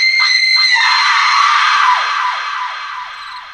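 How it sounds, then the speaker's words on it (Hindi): A woman's long, piercing scream rings out in a graveyard as a horror story sound effect, loud and sustained before trailing off into echoing fading cries. "इशिता की चीख कब्रिस्तान में गूंज गई"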